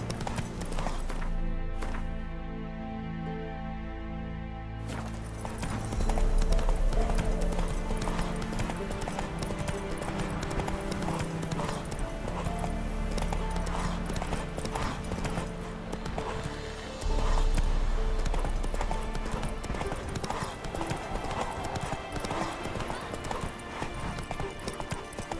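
Galloping hoofbeats of a horse in The Witcher 3, a steady drumming clip-clop under game music and ambience, with a whinny near the start and occasional voices.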